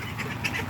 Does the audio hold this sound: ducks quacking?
yes